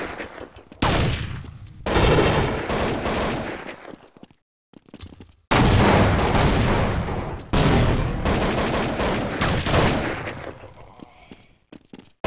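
AK rifle fire in a 2004 Counter-Strike match is loud and dense, with long bursts of rapid shots and clattering game noise that stop for short gaps before starting again.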